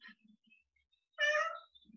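A small cat gives one clear, close meow in the middle of an otherwise quiet moment. Faint voices are heard before and after it.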